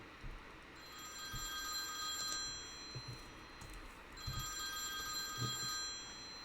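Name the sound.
telephone ringing in a horror video game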